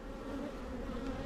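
Honeybees buzz at a hive being checked, a close, continuous droning hum from many insects, even in level and uninterrupted.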